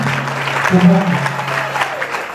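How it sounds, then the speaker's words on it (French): Applause from a church assembly fills the room, a dense short burst of clapping mixed with voices of the congregation. "Acclamons Jésus"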